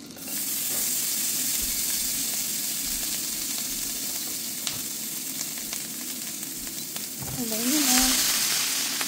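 Garlic hits hot melted fat in a pan with asparagus nearby, giving a steady close sizzle that swells briefly near the end as it is stirred, with a short stretch of talk over it.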